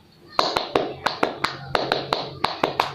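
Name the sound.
group rhythmic spirit clap (tepuk semangat)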